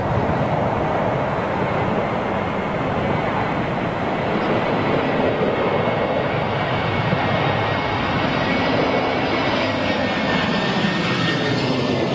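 An Aer Lingus airliner arrives at London Heathrow in the gusty winds of Storm Brendan. Its engines give a loud, steady broadband roar that holds for the whole stretch, mixed with wind noise, with no voices.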